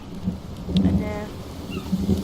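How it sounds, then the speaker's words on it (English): Rain falling steadily in a forest with low rumbles of thunder rolling through, broad and moderately loud, with a few swells of the rumble across the short stretch. "now it's raining again"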